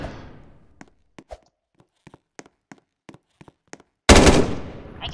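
Gunfire in the Roblox video game: a string of about a dozen sharp, isolated single shots spaced irregularly, then a loud sustained burst of rapid fire near the end.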